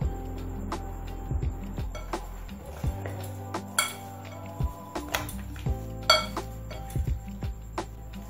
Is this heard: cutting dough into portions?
yes